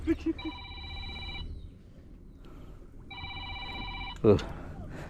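A mobile phone rings while someone is out fishing with a rod and line, two bursts of a repeating electronic ringtone, moderately near over low outdoor background, with a short sharp clatter near the end.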